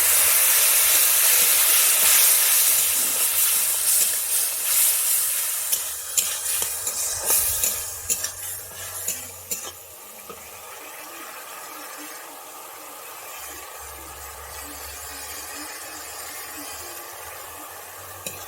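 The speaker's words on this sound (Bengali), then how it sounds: "আমি এবার একটু জল দিয়ে দিচ্ছি" Water poured onto fried spice paste in a hot pan for a Bengali bhola fish curry gives a loud hissing sizzle that gradually settles into a softer bubbling simmer, with occasional clatter of stirring.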